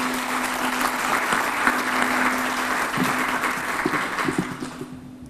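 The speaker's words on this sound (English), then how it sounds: "you should give yourselves a round of applause before we go any further" Applause from a room of attendees at a corporate leaders and achievers recognition event, steady and moderately loud, then breaking into scattered individual claps as it dies away.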